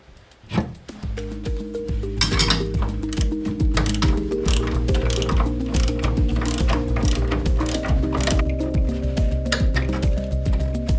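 A hand ratchet clicks rapidly and continuously, loud and close, as it backs out bolts from the pedal box of a 1968 BMW 2002, with occasional metallic clinks and no talking.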